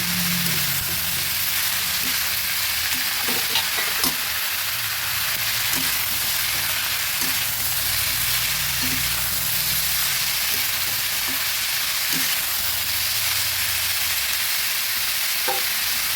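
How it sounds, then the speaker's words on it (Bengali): Young jackfruit pieces, boiled first and seasoned with salt and turmeric, fry in hot oil in a pan. A steady, close sizzle hisses throughout, broken by an occasional light stirring knock, with no one talking. "কিছুক্ষণের জন্য ভাজা হতে দেবো"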